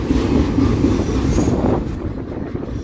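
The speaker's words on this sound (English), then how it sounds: "Centennial train. Look at that." Norfolk Southern mixed freight train cars rolling past up close at Elkhart, Indiana, a steady loud rumble of wheels on rail with a squeal running through it and no talk.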